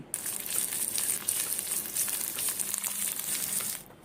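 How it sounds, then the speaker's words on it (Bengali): Chopped capsicum frying lightly in a pan for chilli paneer, a steady bright sizzle with soft crackle that holds for a few seconds, briefly dips, then cuts off at the end. "পরে দিয়ে দিচ্ছি ক্যাপসিকাম কুচি এটা অল্প একটু ভাজবো যাতে গন্ধটা না চলে যায়"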